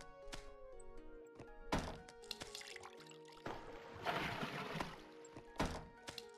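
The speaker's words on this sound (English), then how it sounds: "Added water into a mixing bowl" Water pouring into a mixing bowl in the bakery puzzle game TraptionBakery, a faint splashing pour with soft thunks amid game music, no talking.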